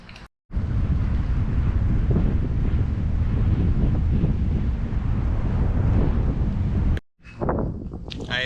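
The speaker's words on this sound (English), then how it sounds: "It's kind of windy right now." Strong wind buffets an outdoor microphone on a windy day in North Platte, Nebraska, a loud, steady roar that fills nearly the whole clip, with brief quiet gaps at the start and near the end and no talking.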